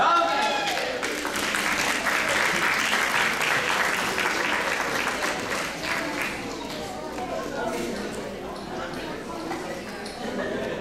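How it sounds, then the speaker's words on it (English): A talent show audience roars and applauds steadily, a dense wash of clapping mixed with cheers that holds for several seconds and then eases slightly while continuing. "I'm hearing a roar in the crowd."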